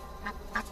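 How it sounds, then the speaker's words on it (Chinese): A duck gives two short, soft quacks close together, heard over a low steady background. "这鸭子不错，拿去烤吧。"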